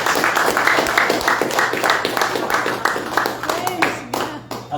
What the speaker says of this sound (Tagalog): Lakasan mga palakpak, may sayang tayo.